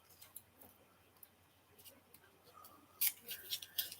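Tape being peeled off a set of four double pointed knitting needles: quiet clicks and small rustles give way to a brief burst of crisp, close tearing and crackling near the end.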